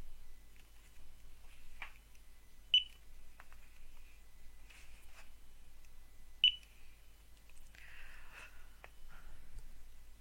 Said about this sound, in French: je bip simplement mes codes barres.